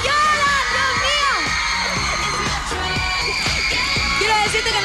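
Audience at a Chicky Idol children's talent show cheers and applauds loudly for a young dancer, with shrill whoops and shouts from many children rising over continuous clapping.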